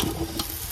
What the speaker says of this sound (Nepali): चाउचाउ र भात भुट्दैछु